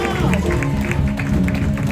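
A crowd claps and cheers loudly and continuously for a couple celebrating their 20th wedding anniversary at a church celebration, with dense overlapping applause mixed with voices.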